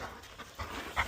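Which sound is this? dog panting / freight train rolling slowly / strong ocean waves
dog panting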